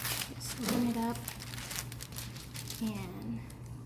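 Crinkling plastic as a package of thawed phyllo dough is opened in a home kitchen while making baklava, soft rustles and crackles under a person speaking.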